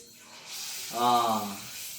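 A drop of batter hits hot oil for Kerala-style pazham pori banana fritters and sets off a steady broadband hiss, with a voice speaking briefly over the sizzle.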